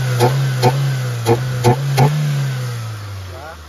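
A Mitsubishi Lancer Cedia with a 4G18 engine, previously sputtering and lacking power, revs in five quick sharp bursts over a steady idle that then settles and fades; the engine is close and fairly loud.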